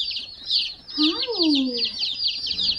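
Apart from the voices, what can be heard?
baby chickens clucking and chirping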